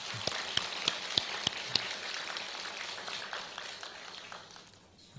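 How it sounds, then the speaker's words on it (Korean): A church congregation at an Easter Sunday morning service gives a round of encouraging applause, a soft, distant patter of many hands with a few sharper claps early on, fading toward the end. "우리 격려의 박수 한번 해주십시오."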